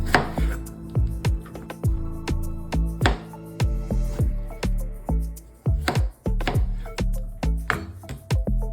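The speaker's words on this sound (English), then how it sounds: "now I have my strawberries cut up" A knife slices through strawberries on a cutting board in a steady run of crisp, close chops with short gaps between strokes.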